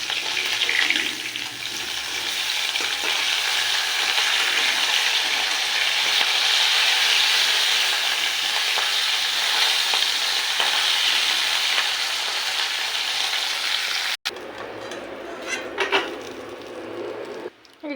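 Fish frying in hot oil, a dense steady sizzle for most of the stretch, then a sudden cut to quieter kitchen sounds with a few brief clatters near the end.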